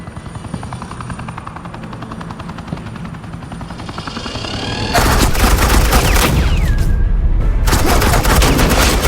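Suppressing fire erupts in Batman: The Enemy Within, a sudden loud burst of rapid gunfire that cuts in over a droning helicopter hum and keeps rattling in dense volleys to the end.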